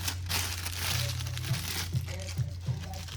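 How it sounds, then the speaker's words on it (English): A plastic icing bag for frosting a chocolate cake crinkles and rustles up close as it is handled and squeezed, with a low hum and a few soft taps underneath. "you take your icing bag that has the tip cut off of it, put it in there"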